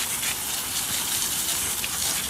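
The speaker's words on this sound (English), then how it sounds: "So I'm just going to take a regular hose. This is the uncoated wheel" A regular garden hose sprays water onto an uncoated car wheel, giving a steady, loud, close hiss of spray that runs unbroken from start to finish with no voices.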